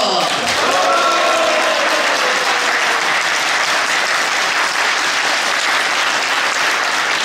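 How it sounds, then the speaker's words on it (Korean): An audience at a National Assembly policy debate forum breaks into loud, sustained applause that stays dense and even for several seconds. "박수와 함성을 보내주시기 바랍니다"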